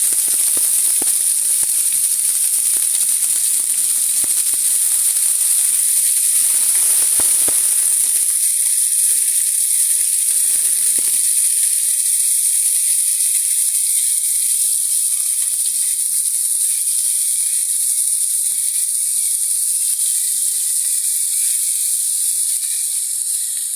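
Chopped onion frying in a pan over lowered heat for garlic bhorta, a steady loud hiss and sizzle throughout with faint crackles early on, no talk.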